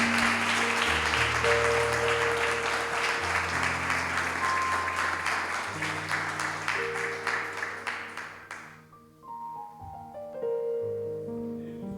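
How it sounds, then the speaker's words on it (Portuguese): A church congregation applauds in a sustained round of dense clapping over soft background music for about nine seconds, then the clapping fades out and the music carries on alone. "Você pode dar uma salva de palmas para Jesus?"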